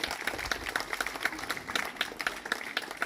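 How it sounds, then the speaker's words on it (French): Audience applause at an evening show of demonstrations in Nice, a dense, steady patter of many hands clapping with no voices over it. "je crois qu'on peut les applaudir très très très très fort"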